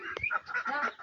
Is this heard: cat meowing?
no